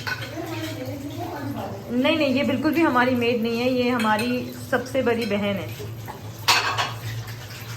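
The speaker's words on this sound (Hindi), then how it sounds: "बर्तन धो रही हैं" Dishes and metal pots clink and clatter steadily as they are washed at a kitchen sink, with someone talking over the washing close by.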